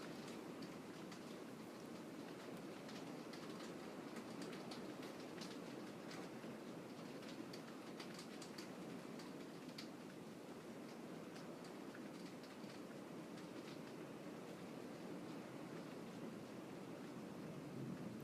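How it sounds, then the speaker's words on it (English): Heavy rain pours down steadily as a dense, continuous hiss, with occasional rattling patters; no clear thunder stands out. "It is really pouring right now."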